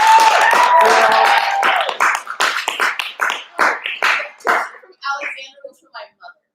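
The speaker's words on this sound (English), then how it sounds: "Let's give one more round of applause" A small audience at a memorial gathering claps, first as a dense burst and then thinning into scattered, separate claps that fade out over several seconds.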